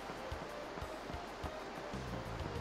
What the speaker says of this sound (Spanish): El ruido del agua.